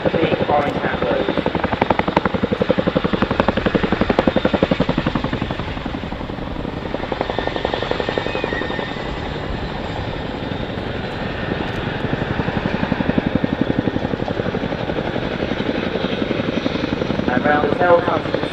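A twin-rotor Chinook helicopter flies a display at the Dunsfold Wings and Wheels 2018 air show. Its loud, steady rotor thump and engine roar fill the whole clip, with a public-address commentator talking over it.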